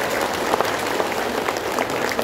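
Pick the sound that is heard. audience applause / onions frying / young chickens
audience applause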